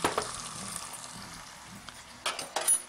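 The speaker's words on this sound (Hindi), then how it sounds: "थोड़ा सा हम इसको भी मज़ीद भूनेंगे ताकि हमारी प्याज और ये जिंजर गार्लिक पेस्ट अच्छे से फ्राई हो जाए जी" Onions and ginger garlic paste fry in a pan with a steady sizzling hiss up close, then a couple of louder scraping stirs near the end.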